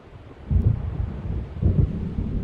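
Low rolling thunder from a gathering storm in the video game Alan Wake Remastered, heard near waves by a lake: two heavy rumbles swell and fade over a steady dark wash of wind and rain, with no voices.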